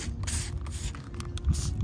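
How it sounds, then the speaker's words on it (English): Hand-held spray bottle misting squash plants in a home garden to treat powdery mildew, a run of close, hissing sprays with brief pauses over steady outdoor background noise. "I am spraying everywhere that I see some powdery mildew."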